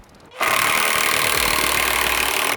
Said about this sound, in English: we're just gonna start screwing these screws in here